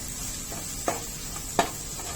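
Spices are stirred into a sizzling onion and tomato mixture in a pan for chicken bhuna masala: a low constant frying hiss with a couple of sharp scraping strokes of the spoon standing out, close and alone.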